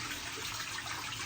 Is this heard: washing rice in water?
yes